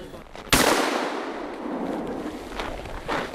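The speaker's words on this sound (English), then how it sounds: "I decided to shoot some clays" Shotgun fires at clay targets outdoors in wintry Harbin: one sharp, loud report followed by a long echoing decay, with fainter distant shots trailing after.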